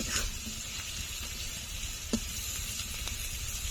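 Taro root and prawn curry cooks in a pan, a soft, even sizzle running throughout with a couple of faint stirring taps, moderately close.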